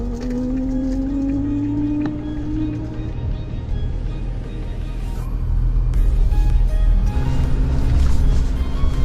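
A four-wheel-drive vehicle speeds toward the listener along a sandy beach at Teewah. Its engine drone and tire rumble swell noticeably louder as it closes in, while another engine hums steadily nearby.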